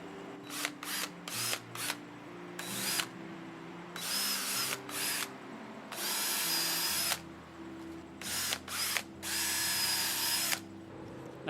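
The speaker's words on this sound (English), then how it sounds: "I'm going to pre-drill for some screws." A power drill pre-drilling screw holes in wood for a fence lattice topper whirs in repeated short bursts, some brief and some longer, starting and stopping with quiet pauses between, heard up close.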